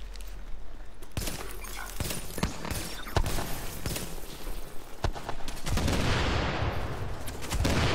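Gunfire in the video game The Division cracks out in repeated sharp shots and bursts, some near and loud and others farther off, over a constant background din.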